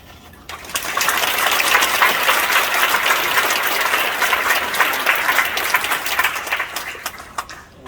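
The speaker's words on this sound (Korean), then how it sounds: "한번 박수 좀 많이 주실래요?" A church congregation claps warmly at an elder's retirement and ordination service, the applause rising quickly, holding full and even for several seconds, then thinning out toward the end.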